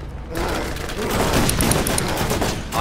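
Shotgun fire in the Borderlands video game, a dense, continuous barrage of blasts and booms running loud through nearly three seconds after a brief quiet start, with no clear gaps between shots.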